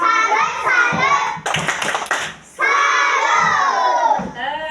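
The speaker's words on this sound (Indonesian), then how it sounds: "Kita kasih tepuk salut." A classroom of children claps in quick rhythmic bursts mixed with shouted chanting, loud and close, with a teacher's voice and kids' voices between the clapping.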